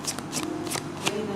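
Tarot cards being shuffled by hand in repeated riffling bursts, close and fairly loud, with no speech over them.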